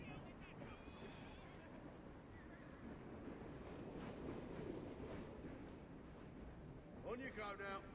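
A Morgan horse in the Assassin's Creed Syndicate epilogue neighs loudly near the end after a stretch of hoof clip-clop and rumbling ambience, with faint in-game sound throughout.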